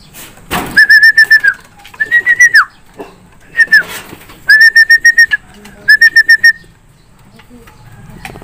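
Breeder pigeons call inside a loft in loud, close bursts of short, clear whistling notes. The notes come in quick repeated groups separated by brief pauses, after an opening thump.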